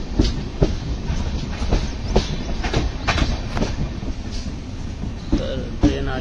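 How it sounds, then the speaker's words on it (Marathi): The Mandovi Express pulling into Chiplun station on the Konkan Railway, with loud rhythmic clickety-clack of wheels over rail joints and steady rumbling, plus faint wheel squeal and voices in the background. "तर ट्रेन आली आहे चिपळूणला."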